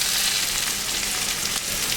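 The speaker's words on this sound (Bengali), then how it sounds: "পনিরটা ভাজা হয়ে গেছে।" Paneer pieces fry in hot oil in a pan, seasoned with a little salt, giving a bright, steady, close sizzle that crackles without pause and with no voices.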